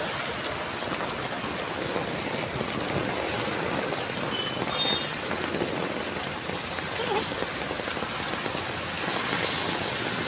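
Heavy Sunday rain pours down steadily, a dense, even hiss of drops falling on surfaces all around, close and unbroken.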